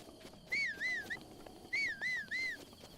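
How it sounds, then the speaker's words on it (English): The player character in Zelda: Breath of the Wild whistles while sprinting, six clear rising-and-falling whistle notes in two groups of three, over faint game ambience and footsteps. "they map whistling to their thumbstick, and then they just spam the B button"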